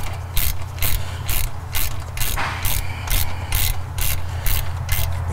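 An 11 mm metric ratchet wrench tightens a clamp on an ATS Aurora 3000 turbo fitted to a 2001 Cummins VP44 truck, giving a loud, close run of rapid, evenly spaced clicks from the pawl.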